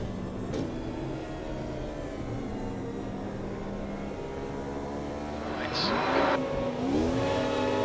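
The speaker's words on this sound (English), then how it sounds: "here we are in Spa-Francorchamps in the Formula Edge cars as we go now." Formula Edge open-wheel race cars lapping Spa-Francorchamps in the racing game Automobilista 2, engines droning steadily with rising whines as revs climb and shift, a second car's pitch sweeping past near the end.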